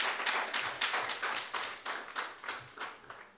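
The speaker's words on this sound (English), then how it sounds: "I want you all to give them a big round of applause because they are the leaders in this." An audience at an outdoor groundbreaking ceremony for a sports complex claps in faint, regular, distinct beats, sounding like a thin, evenly paced round of applause.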